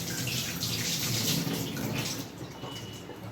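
Drinking water runs steadily from a household tap, a continuous broadband splashing and gushing that stays fairly loud throughout with no talking.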